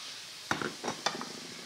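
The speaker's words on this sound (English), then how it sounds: "You can see that sizzling for a matter of seconds, and then we can start to add our fish." Already-cooked tiger prawns drop into a hot pan and sizzle, with a few sharp spits and clinks rising over a steady hiss of frying, close and alone.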